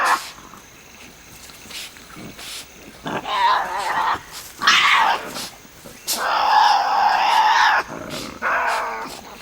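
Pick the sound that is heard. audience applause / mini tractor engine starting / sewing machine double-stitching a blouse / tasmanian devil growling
tasmanian devil growling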